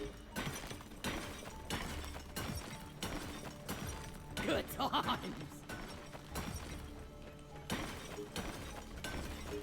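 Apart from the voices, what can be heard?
core infuser in use in the video game Deep Rock Galactic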